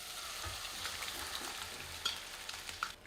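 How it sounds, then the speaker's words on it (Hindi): Batter poured into a light hot tempering in a pan for a crispy snack, frying with a steady soft sizzle and occasional crackles close by, continuous throughout. "और अब हम एक ही बार इस घोल को डाल देते हैं।"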